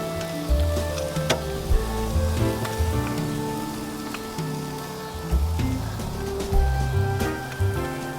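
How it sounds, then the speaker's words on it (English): Steady crackling sizzle of meat on a smoker grill, with scattered sharp pops and spits over a continuous hiss. "There's nothing like the sizzle."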